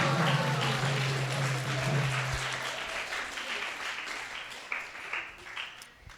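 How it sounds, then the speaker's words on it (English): Audience applause after a presentation at a temple gathering, a steady wash of many hands clapping that slowly thins and fades over several seconds, with a low hum underneath early on. "give another round of applause to Malini Mataji"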